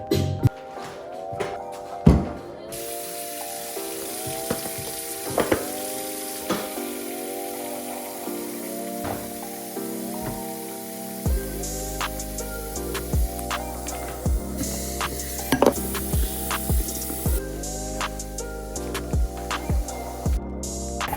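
Dishes are washed after lunch in a home kitchen, with running water hissing steadily alongside repeated clinks, knocks and clatters of crockery and utensils, close and fairly loud throughout with no talking.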